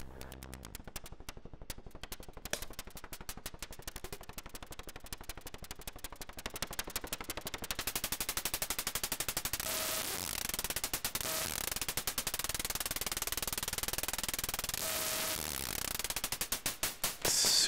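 Bursts of white noise from the sample and hold module on an Erica Synths modular system, routed through the mixer and shaped by an envelope into percussive hits, firing in rapid, steady, machine-gun-like trains that grow denser and louder over time.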